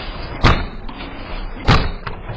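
A door slams twice, each a loud sharp bang about a second apart, over a steady background hiss.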